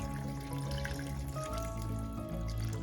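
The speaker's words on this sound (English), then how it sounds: "add some more water" Water poured into a cooking pot of pork hock stew, a soft continuous splashing and trickling under steady tonal background hum, fairly quiet and unbroken for a few seconds.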